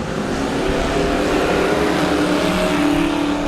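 A pack of race cars roaring away at the green flag start at Lee USA Speedway, a dense, loud wall of engines rising steadily and blending together, heard from nearby with no voices.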